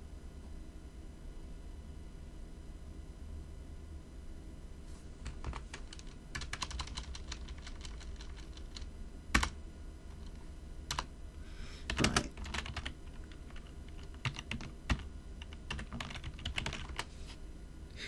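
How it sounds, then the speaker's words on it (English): Commands being typed on a computer keyboard, a run of close, quiet key clicks that starts after a few seconds of hum and continues in irregular bursts with occasional louder keystrokes, no voices. "probably just be me typing it in wrong, which I seem to do quite a lot"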